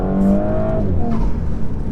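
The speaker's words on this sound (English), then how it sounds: "That air intake just sounds awesome." A Stage 1 Audi S4 accelerates hard, its engine note climbing loudly through the gears with a strong air-intake roar, heard close from inside the car.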